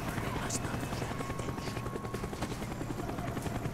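Helicopter rotor chop from the Call of Duty: Black Ops campaign mission Rebirth, a steady loud thrumming that fills the whole stretch amid game battle noise.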